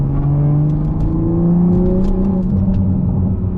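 Close-up drone of a Toyota Supra engine held around 3,000 to 3,500 rpm in drive, a loud steady rumble with a slowly shifting pitch and faint crackling exhaust burbles on top.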